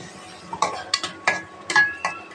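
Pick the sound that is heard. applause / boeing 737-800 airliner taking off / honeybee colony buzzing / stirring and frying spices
stirring and frying spices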